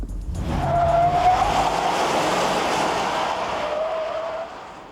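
A 1995 Oldsmobile Aurora drives hard with tyres squealing over a broad engine and road roar. The sound swells loud early, stays strong, then eases toward the end, with no talking.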